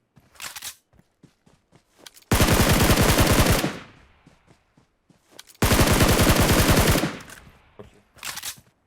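SCAR-L assault rifle fire in PUBG Mobile: two long, loud sustained automatic bursts of rapid gunshots, separated and surrounded by quieter scattered clicks and distant shots.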